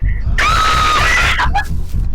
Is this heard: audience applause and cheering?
no